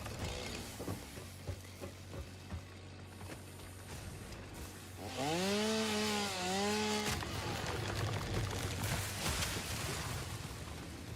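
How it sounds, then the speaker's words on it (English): A chainsaw cutting trees in the video game Satisfactory, whining up to a loud rising rev that wavers for about two seconds amid game ambience and mechanical hum, then cuts off. "hopefully that's enough to get one little run out of the chainsaw"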